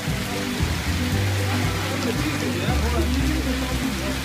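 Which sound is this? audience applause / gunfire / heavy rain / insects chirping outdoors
heavy rain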